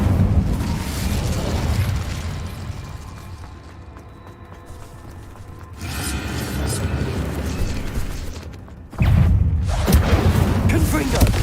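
Incendio fire spell cast in Hogwarts Legacy, heard as a loud, sustained rumble of game effects with bursts and a sharp surge near the end, over continuous background score.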